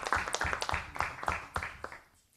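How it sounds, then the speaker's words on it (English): Brief scattered applause for a councillor at a council meeting, a small group clapping unevenly at moderate distance for about two seconds before trailing off, fairly faint. "Let's give a round of applause to Councillor Saniolo for being the first councillor to bring an agenda"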